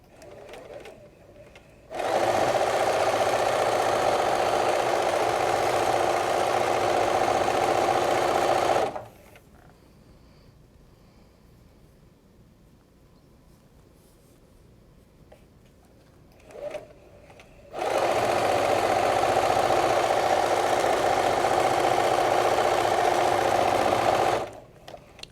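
A sewing machine stitches a rolled hem along the short end of a towel in two long, steady, loud runs of rapid mechanical whirring, separated by a quiet pause with faint handling of the fabric.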